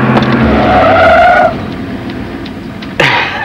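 A car brakes hard in an action-film street scene, with a loud, sustained tire squeal over engine noise for about a second and a half, then a steadier rumble and a brief sharp squeal.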